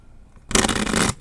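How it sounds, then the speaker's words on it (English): Tarot cards are shuffled in one brisk, loud riffle lasting about half a second, rising abruptly out of a quiet room and then stopping. "I'm sorry if the shuffling is a little bit loud though."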